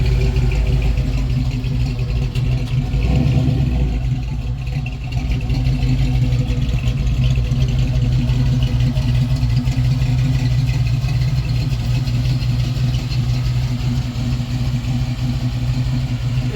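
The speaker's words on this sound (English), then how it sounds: "Talking trash with the exhaust now." A car's exhaust rumbles steadily at idle at a car show, a loud, deep, continuous burble that holds throughout with no talking.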